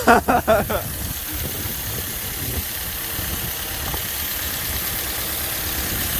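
A Suzuki Swift engine with a leaking exhaust manifold idles with a steady, close mechanical drone after a few loud thumps at the start, and the engine continues alone without speech.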